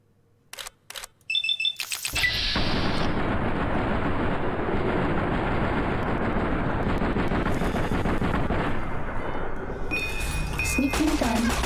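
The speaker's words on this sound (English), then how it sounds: "Let me shoot the tail." Fallout New Vegas gunfire aimed at the tail of the giant X-42 robo-scorpion: a few sharp clicks and shots open, then a loud, sustained roar of continuous firing and battle noise that holds steady before easing off.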